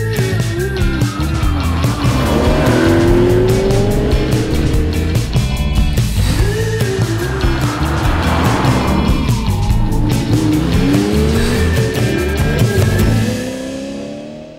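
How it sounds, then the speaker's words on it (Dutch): Engine of a 1963 Belgian-built Chevrolet Impala convertible with a smooth-running V8, droning steadily and loudly up close for about fourteen seconds with rising and falling engine pitch, then cutting away at the end. "Een lel van een auto met een hele mooie zijde zacht lopende achtcilinder."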